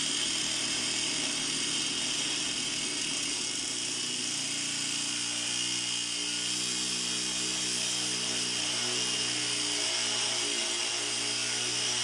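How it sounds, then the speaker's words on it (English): A die grinder cuts through a stubborn lower control arm bolt on an EK Civic hatch, giving a steady, loud, high-pitched whine with a grinding rasp that persists throughout without pause. "You can cut in between there with like a die grinder"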